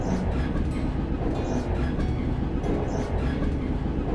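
A train runs steadily on its rails, with a continuous loud rumble and faint rhythmic clatter throughout, with no other sounds standing out.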